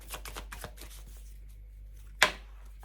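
Tarot cards being shuffled in a quick burst of soft, papery riffling flutters, followed after a pause by a single sharper snap or tap of the deck, close and quiet with no talking.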